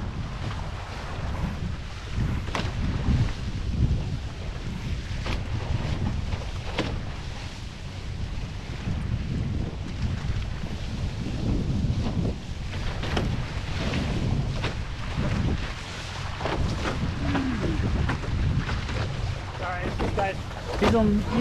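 A foiling sailboat racing across New York Harbor, with steady wind roar buffeting the microphone and rushing water hiss, punctuated by occasional knocks and rigging rattles, loud and close throughout.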